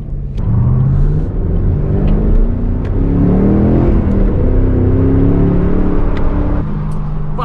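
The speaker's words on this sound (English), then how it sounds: "we are going to make this run and see what kind of fun we can have with the car on the way" A car drives along a road near Annandale, Minnesota, its engine a steady close rumble with rising and falling revs and tire noise throughout, with no talk.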